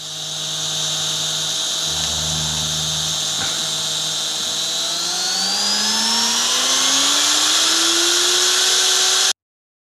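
A VEVOR trim router spins up and runs with a loud, steady high-pitched whine that climbs in pitch as it speeds toward 10,000 RPM, then cuts off abruptly.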